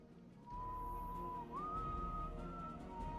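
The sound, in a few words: character whistling a tune in Destiny 2 video game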